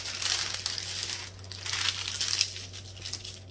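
A creased base plastic sheet for diamond painting crinkles and crackles in irregular bursts as it is handled close by, without talk.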